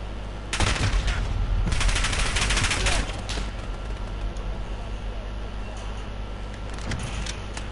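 A weapon test-fired in Call of Duty Modern Warfare lets off bursts of loud automatic fire for about three seconds, then a sparse shot or two over a steady low rumble.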